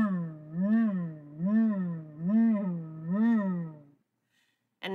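A low human voice imitating motorcycle revs, four rising-and-falling hummed engine-like swells in steady rhythm, close and clear, followed by a short silence.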